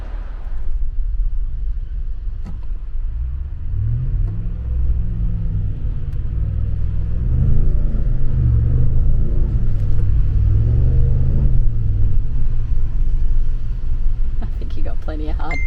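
A four-wheel drive vehicle eases down onto soft beach sand, its engine giving a steady, low rumble that swells slightly midway, with voices talking over it.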